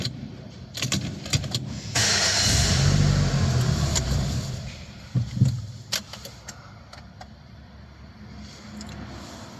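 A Renault Clio with a no-crank immobilizer fault cranks and fires up after being shifted into reverse: a short burst of starter and engine roar, then a settling idle with a few clicks and clunks nearby.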